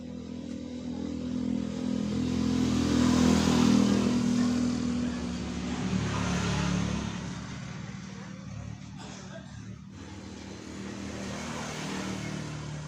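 A Yamaha Mio M3 scooter engine, whose fuel problem turned out to be caused by a rat, revs and runs loudly nearby with a fluctuating drone.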